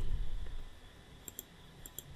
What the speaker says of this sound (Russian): Могу сделать двойной клик